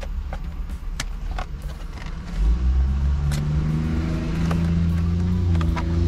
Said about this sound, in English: There's so many loud cars out here.